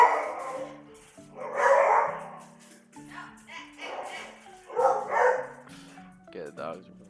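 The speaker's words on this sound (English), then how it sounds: "the dogs are going crazy." Dogs yip and bark in short excited bursts, mixed with talking voices and steady tonal background music.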